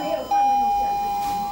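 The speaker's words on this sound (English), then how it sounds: "with a custom doorbell" A custom doorbell installed at an elderly man's home rings once with a sustained electronic tone, clear and fairly loud against faint background noise.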